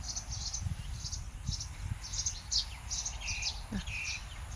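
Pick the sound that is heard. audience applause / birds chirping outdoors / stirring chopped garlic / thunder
birds chirping outdoors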